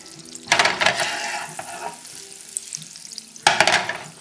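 Breaded veal cordon bleu sizzling in a hot pan, with loud bursts of frying and stirring noise near the start and again near the end, and quieter crackling in between; no one talks.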